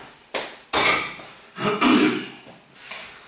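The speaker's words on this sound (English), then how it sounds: "And stir that mince in." Mince being stirred in a pan, a few close clattering scrapes and knocks of a utensil against metal in short uneven bursts.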